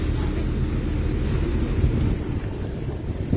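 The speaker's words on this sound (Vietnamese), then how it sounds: "Đấy nha, lại rất nhiều xe máy đi qua đây." Steady stream of motorbikes and road traffic rumbling past on a busy street, a continuous low drone without clear breaks, fairly close.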